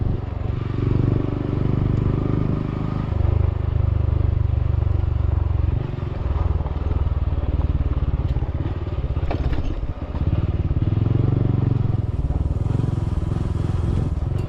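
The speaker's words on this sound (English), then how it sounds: "I haven't been on Robert's bike off-road yet" A Honda CT 142 big bore kit motorcycle ridden off-road, its engine droning loud and continuous close by, with rattling clatter and occasional thumps from the rough ground.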